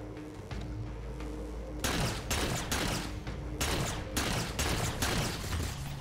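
Rapid bursts of gunfire from the Halo 4 video game on Legendary difficulty, loud and close, with dense volleys hammering on and off after a quieter opening stretch.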